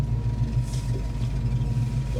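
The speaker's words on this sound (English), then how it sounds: "Car backs up, no trouble at all." A 1967 Ford Mustang Fastback with a fuel-injected S-code 390 V8 and four-speed backs up, its engine giving a steady, loud low rumble close by with no talk.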